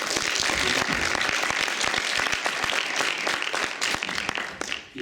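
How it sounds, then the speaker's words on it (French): An audience applauds a lecturer from the Lille faculty as he is welcomed at a philosophy talk, with dense, sustained clapping from a crowd that thins toward the end. "Donc je vous demande d'applaudir bien fort monsieur Marc Parmentier."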